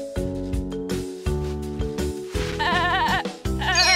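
A goat in a children's counting game bleats in loud, quavering, wavering cries, several drawn-out calls in quick succession, close and alone.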